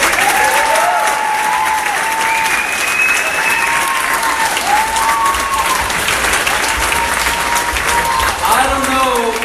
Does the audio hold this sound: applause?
yes